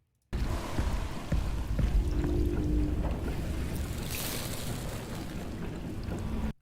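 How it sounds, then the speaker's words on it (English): Shallow water laps softly in a BioShock game scene, a continuous, fairly close wash of splashing with a brighter surge near the end. "There's some like shallow lapping also."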